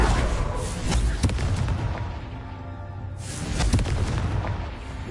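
Booming blasts from the Confringo explosion spell in Hogwarts Legacy go off in quick succession, loud and close, with sharp impacts followed by rumbling decay and a second burst later.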